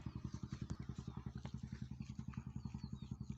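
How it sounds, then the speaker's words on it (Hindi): A small engine runs at a farm field with a tomato crop, thumping in a fast, even rhythmic chug that stays steady and fairly close throughout, with faint background noise and no clear talk. "इंजन चल रहा है"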